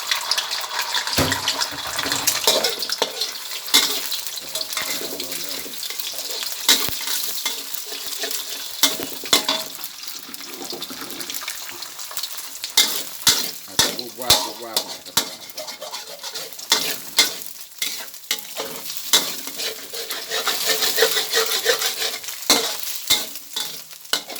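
Steady sizzling of egg frying in a hot wok, with crackles and occasional clatter of stirring.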